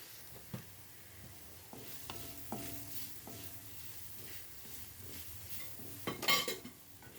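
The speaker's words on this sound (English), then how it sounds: "Now toss in 1 heaped teaspoon of coriander powder and 1 teaspoon of garam masala. Saute this just until combined." Coriander powder and garam masala sautéing in a pan for Malabar egg curry: a low steady sizzle with a few spoon scrapes and clinks against the pan, soft and close, no talking.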